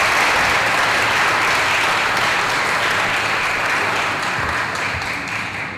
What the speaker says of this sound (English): So let's give our panelists again another round of applause.